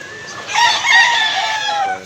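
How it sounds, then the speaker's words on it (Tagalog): Chickens cluck and a rooster crows in a short, busy burst of fowl calls, fairly close and loud, with no talk over them. "Daghang manok."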